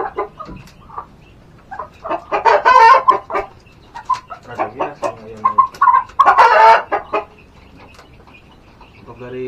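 Mangon hens clucking in a home coop, several close, loud bursts of squawking clucks in uneven runs with quiet gaps between, no talk.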